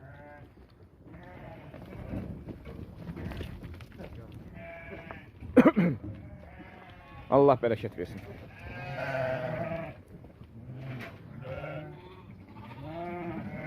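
Sheep and lambs bleat repeatedly, some calls loud and close, others fainter, amid a flock, with someone speaking briefly.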